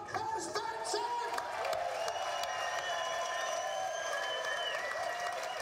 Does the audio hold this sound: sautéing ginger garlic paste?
no